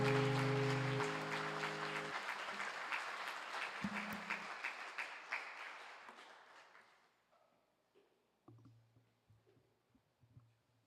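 Audience applause after a youth worship song performance, dense clapping loud at first and steadily thinning and fading to sparse claps, with faint talk and low tones near the end.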